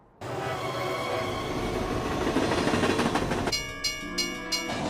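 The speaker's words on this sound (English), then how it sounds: "I hear a train whistle over there" A train rumbles and clatters steadily close by, then a tonal whistle sounds in a few short blasts over the rolling noise.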